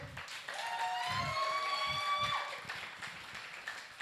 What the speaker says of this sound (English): Let's give another round of applause for Amanda Kroll.